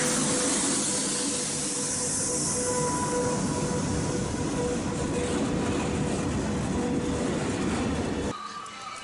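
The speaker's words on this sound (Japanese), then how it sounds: "午後1時半、今回乗車する貨物列車40127列車がやってきました。" Freight train 40127, an SS4 electric locomotive hauling more than twenty wagons, arrives with a loud, close, continuous rumble and faint wheel squeal, the noise cutting off sharply near the end.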